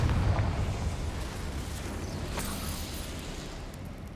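A Confringo spell goes off in the video game Hogwarts Legacy, opening with a deep, rumbling blast that slowly fades into a long, low roar of debris. No voices are heard.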